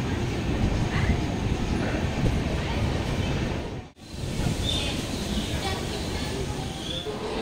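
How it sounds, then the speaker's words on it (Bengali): A passenger train, the Dhauli Express, pulls away from Bhubaneswar station with a continuous rushing rumble of wheels and wind, dipping briefly midway before resuming at full strength. "ভুবনেশ্বর স্টেশন থেকে ট্রেন ছেড়ে দিয়েছে আমাদের।"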